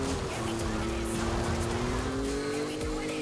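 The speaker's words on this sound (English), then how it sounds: "The car sounds are so good too." Car engine in Forza Horizon 5 hums at a steady, sustained pitch throughout, with a faint tire squeal and talk over it.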